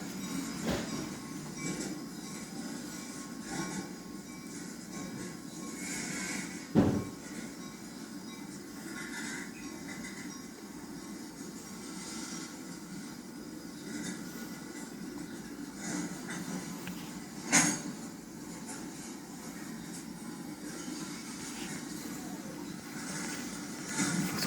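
A mixed freight train rolls slowly through a town street in La Grange, Kentucky, with a steady low rumble of cars, occasional sharp wheel clanks and squeals, heard from a distance without speech.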